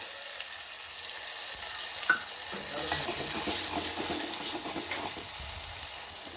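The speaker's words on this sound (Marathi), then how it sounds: "हे सगळं परतून घेऊ हा सगळा मसाला शिजलेला आहे" Masala for a mixed toor and moong dal is sautéed in a pan, a steady close sizzle of frying with a few light stirring scrapes and a brief clink partway through; no voices.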